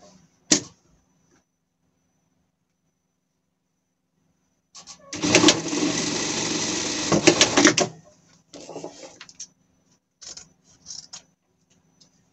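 A sewing machine stitches a seam on a backpack in one close burst of about three seconds, then several short bursts follow, separated by silence.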